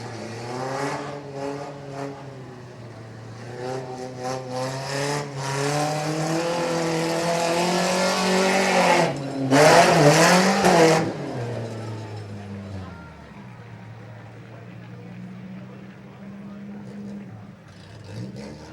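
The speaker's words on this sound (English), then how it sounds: "here we go around the corner up the hill. This is the Ford Ranger" Ford Ranger rough truck driven by Jason Field at the Medina County Fair 2016, its engine revving hard as it rounds a corner and climbs a hill, rising and falling under steady announcer commentary over a loud crowd-filled fairground.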